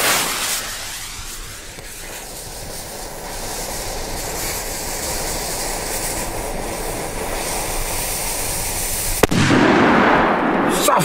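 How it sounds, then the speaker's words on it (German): Polenböller firecrackers going off outdoors, a dense, continuous crackling roar over about nine seconds, then a sharp loud blast near the end followed by a brighter, louder burst. "Komm, jetzt will ich hier mal richtig böllern."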